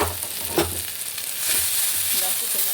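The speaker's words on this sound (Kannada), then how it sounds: "ಇದಕ್ಕೆ ಒಗ್ಗರಣೆ ಕೊಡೋಣ ಬನ್ನಿ" Tempering spices sizzle in hot oil for an Andhra-style tomato and brinjal chutney, a steady bright hiss that swells louder midway and holds, with faint stirring clinks and no talking.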